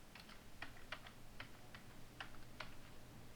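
Computer keyboard keys tapped while entering HTML code, a quiet, irregular series of light clicks in short bursts, close but faint.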